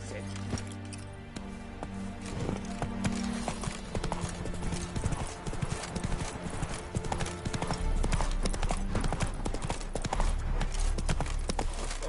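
Geralt's horse Roach gallops in The Witcher 3: Wild Hunt, rapid rhythmic hoofbeats pounding steadily over in-game music and ambience, with a brief whinny and a voice speaking over it.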